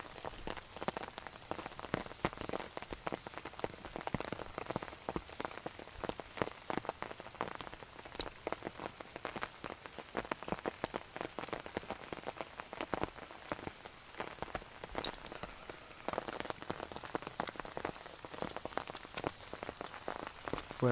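Rain in the rainy season, falling steadily on surfaces outdoors near a fish trap by the water, a constant dense patter of drops with faint frog croaks in the background.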